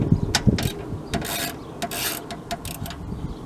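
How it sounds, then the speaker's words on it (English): A socket wrench loosens a 10mm bolt on the AC line bracket at the fender of a 2017 Ram 1500 5.7 Hemi, giving a series of quick ratcheting clicks, close and fairly quiet. "take a 10mm socket, loosen this one bolt that secures the AC line bracket to the fender"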